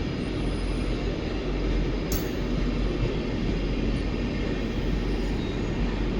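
Siddaganga Express with ICF coaches rolls past as a continuous loud rumble and rattle of wheels on track, close and steady throughout, with one brief sharp squeal partway and no voices.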